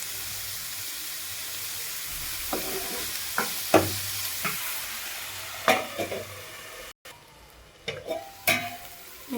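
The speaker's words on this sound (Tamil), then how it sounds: "இது எல்லாத்தையும் சேர்த்து ஃப்ரை பண்ணிக்கோங்க." Chillies and chopped tomato with asafoetida and salt fry in a pan, a steady sizzle and hiss broken by several scraping stirs of a spoon against the metal, close and clear with no talking.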